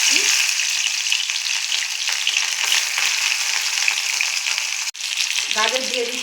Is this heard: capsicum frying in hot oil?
yes